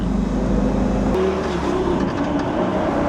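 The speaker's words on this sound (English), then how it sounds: "they have that howl to them, that 5-litre howl that nothing else has got" Engine note from a Lamborghini Gallardo with its 5-litre engine, a loud continuous broadband roar that shifts in character partway through and carries on without speech.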